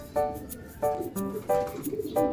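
Soft bird calls repeat four times in a steady rhythm, each a short burst of notes, close by with no talking.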